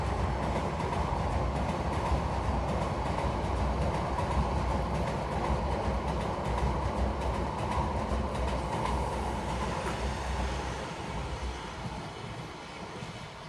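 Loud, steady rumble and clatter of a Bangladesh Railway train passing close by near the Gomti river in Cumilla, gradually fading slightly toward the end, with no talking.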